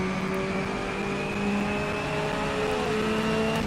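A racing car engine in a video game drones at high revs with a steady whine, slowly shifting in pitch, moderately loud with no talking.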